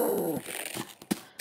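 Dogs barking and growling in Tomb Raider II Remastered, a few sharp barks and a low snarl standing out against quieter game ambience.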